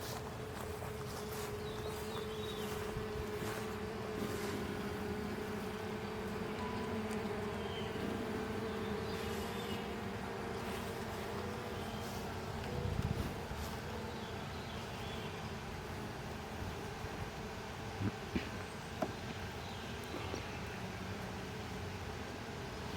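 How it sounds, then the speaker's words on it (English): Steady dense buzzing of many honey bees around an open hive fills the whole stretch, a constant drone with a few faint knocks and rustles. "you hear them getting louder and louder"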